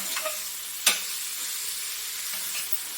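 Broad beans (chikkudu kaya) stir-frying in a pan give a steady, close hiss and sizzle, with one sharp clack of a utensil early on and no voices.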